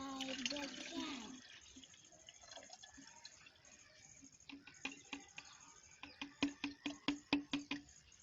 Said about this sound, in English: Now pour it inside the can.